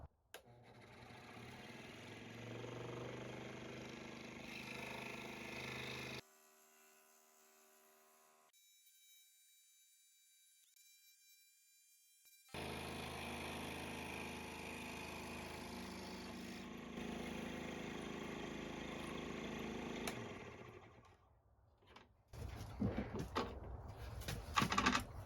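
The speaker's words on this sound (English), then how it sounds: "I'm going to take care of it with a scroll saw." A scroll saw cuts wood during restoration of a 1924 Victrola VV-215 cabinet, a buzzing motor with rapid reciprocating rasp running steadily, breaking off midway, then resuming before ending in scattered clatter.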